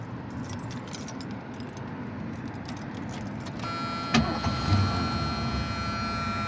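A 1979 Lincoln Town Car with its carburetor still being adjusted, first a jangle of keys and a starter crank, then the engine catches at about four seconds and settles into a steady, fairly quiet idle.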